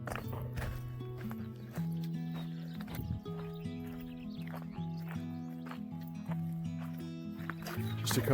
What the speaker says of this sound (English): hear all the foot stomps and some whinnying of the horses up here